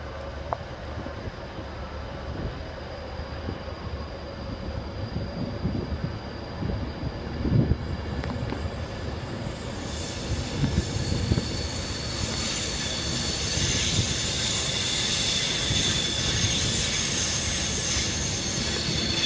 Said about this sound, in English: Another Pendolino departs for London Euston.